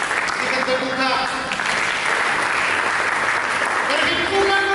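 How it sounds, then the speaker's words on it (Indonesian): Sustained congregation applause in a church during a Christmas service, continuous crowd clapping that stays loud and even, with faint tonal music underneath. "Berikan tepuk tangan."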